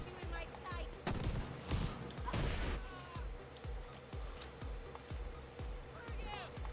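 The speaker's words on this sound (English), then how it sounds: "Just dodging fucking shotgun bullets." Shotgun fire in The Division 2 during a PvE fight: repeated sharp blasts at a steady, rapid rhythm over a dense, noisy battle mix, with a louder burst of impacts partway through.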